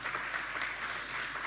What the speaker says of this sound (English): we do deserve a round of applause, please.